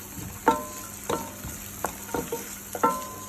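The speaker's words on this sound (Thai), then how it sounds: "จากนั้นใส่หอมลงไป ผัดให้หอมสลดไปเลย" Shallots stir-fry in olive oil for tuna fried rice, a steady sizzle broken by several sharp scraping strokes of a spatula against the pan, close and clear with no talk.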